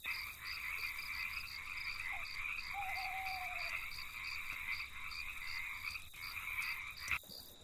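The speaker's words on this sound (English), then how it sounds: "frogs making that rivet sound" Frogs croak and trill steadily in nighttime woods, a dense continuous chorus with pulsing high calls, fairly loud and unbroken, with one brief sharp knock near the end.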